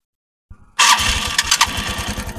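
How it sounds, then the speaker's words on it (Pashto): An auto rickshaw engine (2023 model) is started: a short crank, then it catches and settles into a loud, close, rapid chugging idle. "د انجن دا شور هم تاسو ته یو ځل بیا دا سټارټوم او ښیم یې درته"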